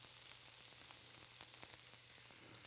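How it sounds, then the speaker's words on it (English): Salmon sizzles in hot oil in a pan, a quiet, steady crackling hiss dotted with sharp pops and spits, close but low in level and without voices. "That sizzle is why it has that nice sear like that."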